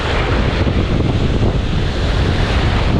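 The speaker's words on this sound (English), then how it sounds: "when you get out here, the waves sure seem higher" Ocean waves at a southwest Florida beach near Cape Coral and Sanibel, a loud continuous wash of surf mixed with heavy wind buffeting the microphone, steady throughout with no talk.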